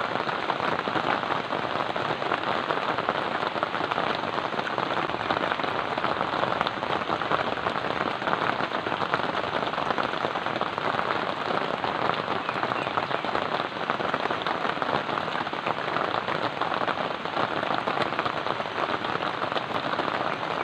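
Steady, heavy rain falls on a mountainside, a dense continuous hiss of drops striking surfaces at close range, unbroken for the full length with no voices.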